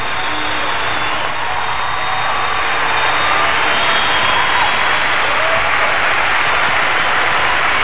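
Sustained, loud applause from a large arena crowd at the 1992 Albertville Winter Games ladies' free skate, a steady wash of clapping and crowd noise rolling on without a break.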